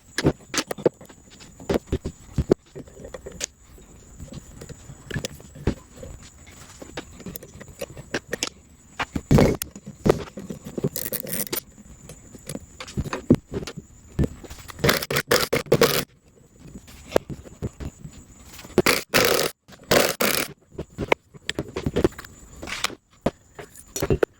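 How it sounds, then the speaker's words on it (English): Metal parts of a barn-find Jaguar E-Type front brake caliper are pulled apart by hand, with close, irregular scrapes, taps and clinks of tools and components throughout and no talking. "First thing to do is get this caliper apart"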